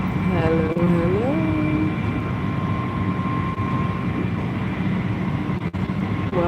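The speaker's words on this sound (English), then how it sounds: "I'm in the train." Steady, loud rumble and hiss fill the cabin of a moving passenger train, continuous throughout, with a brief voice near the start.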